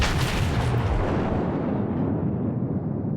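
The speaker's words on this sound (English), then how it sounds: "we're firing against a cruiser here" Loud naval gun salvo in World of Warships striking a cruiser, a big booming blast that rolls off into a long fading rumble.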